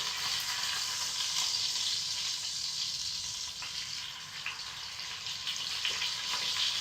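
Steak searing in a hot pan on high heat, a dense, loud, steady sizzle close up, with a few faint clinks and no speech.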